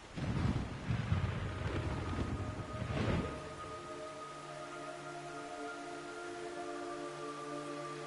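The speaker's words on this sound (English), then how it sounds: "It's raining blood." Blood rain and thunder in a video game's hellish setting: a rumbling roll of thunder with steady rain hiss for the first few seconds, then the storm fades to a quieter background drone with a faint sustained tone.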